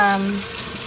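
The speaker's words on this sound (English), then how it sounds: "So the water is on very hot." Very hot water runs from a tap in a continuous, close rushing stream, with a faint voice-like tone near the start.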